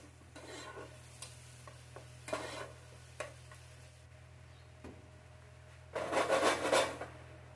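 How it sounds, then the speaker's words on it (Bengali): A spatula stirring sauce through capsicum, onion and spring onion in a pan for chili chicken: scattered soft scrapes and taps over a low hum, ending in a louder stretch of rubbing and sizzle. "এবার এই সসটাকে খুব ভালো করে সব সবজির সাথে মানে ক্যাপসিকাম, পেঁয়াজ, স্প্রিং অনিয়ন সব কিছুর সাথে খুব ভালো করে মিশিয়ে দেব।"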